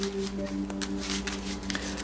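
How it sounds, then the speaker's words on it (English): Cards of a Marvel Champions deck riffled and shuffled by hand during a solo tabletop game, a steady close papery flutter over a low constant hum. "So like I said, I'm shuffling up his deck."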